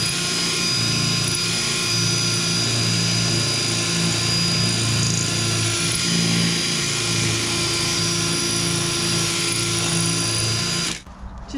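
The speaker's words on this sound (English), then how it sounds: "I've just been using a drill bit, and I find the hole, or the round bit, which is the spot weld" A drill bit grinds steadily into spot welds on the body of a Rover P6, a continuous loud whine with bright harmonics sustained for about eleven seconds before cutting off abruptly.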